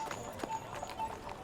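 Horse hooves clip-clop steadily at a busy market in a children's podcast sound effect set in Shakespeare's time, moderately near, with faint voices murmuring in the background.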